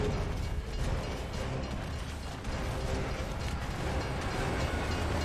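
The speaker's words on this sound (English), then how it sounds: "it's a bloody train coming the other way." A train rumbles past on the tracks in Gears of War 3, a dense and steady roar with faint metallic creaks, close and unbroken for several seconds.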